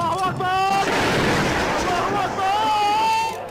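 A bomb explodes in a video game as a loud, booming blast that fills the whole moment, while a voice talks and shouts over it.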